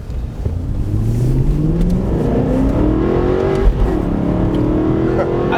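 An Aston Martin Vantage V8 engine revving from inside the car, a loud rising growl that climbs steadily, eases briefly and builds again, with a deep rumble throughout.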